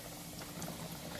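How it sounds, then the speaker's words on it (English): Two large chicken breasts fry in hot oil for a copycat Popeye's chicken sandwich, giving off a soft, steady bubbling and churning sound that stays faint and even, with no talk over it. "So we are going to go ahead and start frying."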